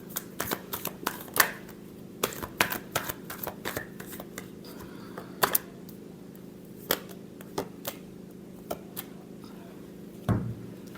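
Tarot cards being shuffled by hand, a quiet series of crisp riffling flicks and taps arriving in irregular bursts, close up with no voice over them.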